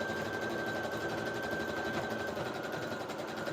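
A sewing machine stitches down the small edges of a tattered quilt, its steady continuous whir running close and even throughout with no pauses.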